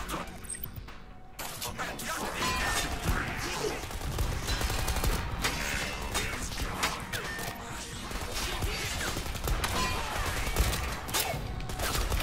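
Constant dense machine gun fire and crashing impacts from the Strider video game fill the scene at steady loudness, with game effects and clatter layered throughout and no clear pauses.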